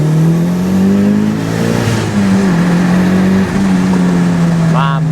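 A Mitsubishi Lancer Evolution VI, a JDM car, revs hard on a dyno, its engine note holding loud and steady across the clip. Near the end a voice briefly cuts in over the engine.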